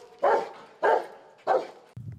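A municipal guard's police dog barks three times, loud, close and evenly spaced, followed by a brief low thump.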